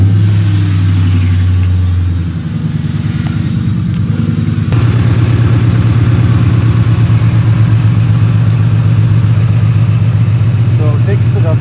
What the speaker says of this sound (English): I'm gonna start up the car real quick and see if that fixes that exhaust leak issue.